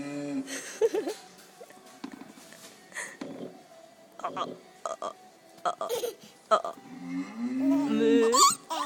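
Cow moos are played back for a child, several short lowing calls separated by pauses, mixed with a voice and adult talk nearby.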